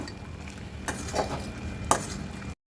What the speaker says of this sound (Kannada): ಪಾಕ ಬರೋವರೆಗೂ ಕುದಿಸ್ಕೊಳ್ಳೋಣ.